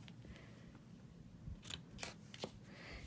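Scissors cutting ribbon for card making, three or four short crisp snips close by but faint, over a quiet room background.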